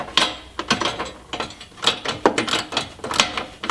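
Bursts of ratchet clicking while tightening a rear bumper bracket bolt on a Jeep Cherokee XJ with a JcrOffroad bumper, close and loud, in short repeated strokes.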